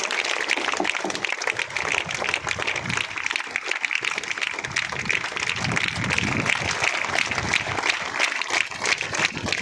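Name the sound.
audience applause at a school event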